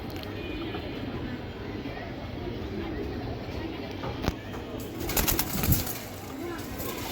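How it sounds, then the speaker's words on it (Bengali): Kalodoma pigeons coo softly in a loft, making low, rolling calls under steady background hiss, with a short scuffle and wing rustle near the end. "এই কবুতর অন্ধকারেও গাইতে থাকে"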